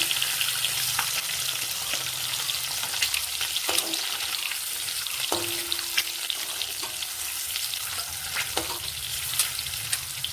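Eggs fry in a pan in a steady, dense, close sizzle that runs unbroken throughout, with a few light clinks and scrapes of a utensil on top.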